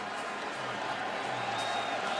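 Stadium crowd at the 2011 Grey Cup football game roaring after a touchdown, a steady broadband wash of distant cheering and applause that holds level throughout.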